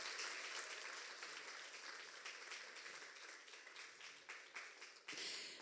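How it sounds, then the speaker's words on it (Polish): Audience applause at a children's song festival gala in Łasin, honouring a second-place winner in the 13–15 age category; steady, dense clapping throughout, dipping briefly near the end before swelling again. "Wielkie brawa."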